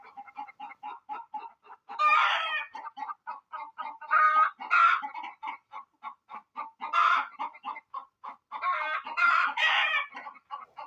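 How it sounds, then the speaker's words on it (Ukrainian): A hen clucks rapidly and repeatedly up close, breaking into loud squawking calls every couple of seconds. "Курка знайшлася її не перекричати."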